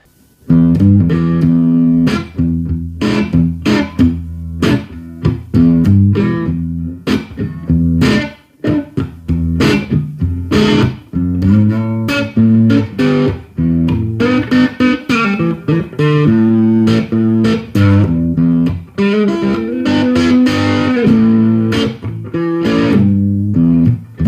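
Electric guitar through a Fender Twin Reverb Tone Master digital amp, clean and warm, plays chords and melodic lines continuously, loud and close, with a reverb-like tail and no voices.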